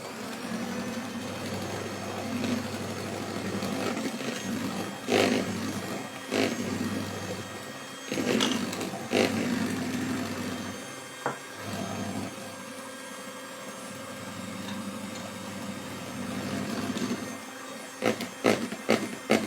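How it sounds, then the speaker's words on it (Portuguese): An electric mixer beats red velvet cake batter while oil is drizzled in, a steady mechanical whir with rhythmic scraping and knocks of the beaters against the bowl, close and fairly loud. "Eu continuo com a batedeira ligada"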